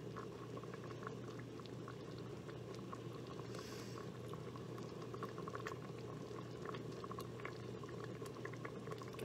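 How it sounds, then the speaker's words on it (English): Strawberry honey jam boils steadily in a pot, a dense continuous bubbling and popping that stays close and even throughout, with no voices over it. "Starting to bubble up nice again. There we go, it's bubbling nice."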